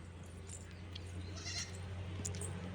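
Goats bleating in a farm pen, a few faint, scattered calls over a steady low hum and background noise, with no talk.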